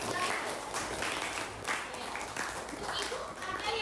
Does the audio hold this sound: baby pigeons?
no